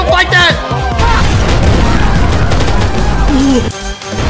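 Grenade explosion in a chaotic online shooter game, heavy booming blasts and gunfire crashing continuously for several seconds, loud and close, while players shout over the noise.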